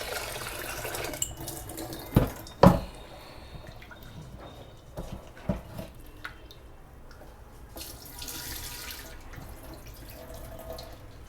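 Water pours out and is rinsed at a kitchen tap, a steady close splashing and running stream with a few sharp knocks and clatters of a vessel, no talk.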